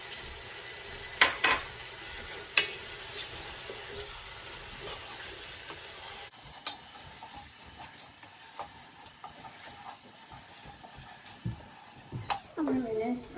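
Whole dry spices and white cumin roast in oil in a pan, giving a soft sizzle with occasional utensil clinks from stirring, low under a person talking.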